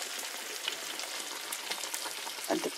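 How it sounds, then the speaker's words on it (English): Sausages sizzle and spit steadily in a hot frying pan, a soft crackling hiss with occasional pops, close by. "The sausages in and sizzling"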